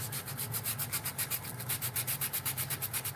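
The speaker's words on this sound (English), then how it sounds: "Sometimes I just use a simple, just piece of sandpaper, fine sandpaper." Fine sandpaper worked back and forth along the edges of a molded piece, a rapid, even rasping rhythm of about six strokes a second, close and steady with no talking.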